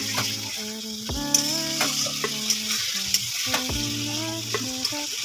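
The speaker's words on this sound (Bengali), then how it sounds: "এই মশলাটাও আমার কষতে আরম্ভ করেছে দেখো বন্ধুরা কষছে" Spices are fried and stirred in a pan, giving a steady, close sizzle with light scraping taps, partly under louder background music.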